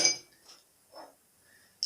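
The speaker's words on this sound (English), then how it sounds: "add some ice" Ice goes into a stirring glass for a cocktail: a few bright, separate clinks and light knocks of cubes against glass, close and crisp, spaced out over about two seconds with quiet gaps between and no talking.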